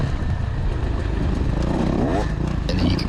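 A racing motorcycle engine is held at wide open throttle during a race, roaring loud and continuous up close, with a voice talking over it.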